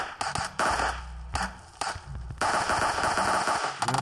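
Rapid bursts of automatic gunfire from a shooting video game rattle in quick, uneven volleys with short pauses between, loud and close, with no one talking.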